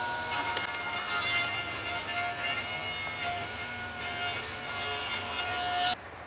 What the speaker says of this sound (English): When we're cutting this, it's really twisty, so it wants to grab onto that table saw